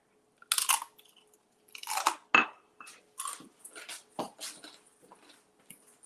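Crunchy chewing of low-carb chips served with guacamole, a series of close, loud crisp bites and munches in irregular bursts with short pauses between, no talking.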